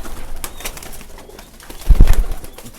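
A pair of black-capped Neeldum pigeons cooing and flapping their wings as they are released, with soft coos through the clip and a louder burst of wingbeats near the end.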